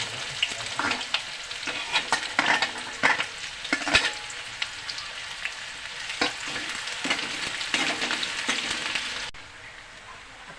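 Onions sizzle and fry in a hot pan for traditional dal kat vada, with steady crackling and scattered stirring scrapes throughout, cutting off near the end.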